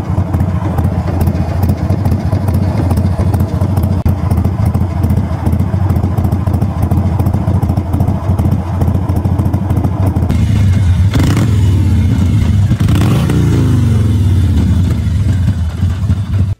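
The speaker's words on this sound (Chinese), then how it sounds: "甚至这种 V45 度的发动机，通过调喷油量，通过调怠速，你还可以得到那种马蹄音的感觉" Xinyuan Zhui 1200 V-twin cruiser, a 45-degree engine, idles with a steady loping rumble that carries close and loud throughout, then near the end it is blipped up through a few rising revs before settling back.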